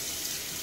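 Lukewarm tap water runs steadily from a faucet during a wet shave, a continuous close hiss with no talking over it.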